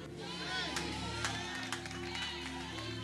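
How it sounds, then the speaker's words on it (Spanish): A church congregation applauds, a diffuse crowd of clapping and faint cheering blended with a droning background tone and talk, moderately loud and steady throughout. "dale ese aplauso a Dios"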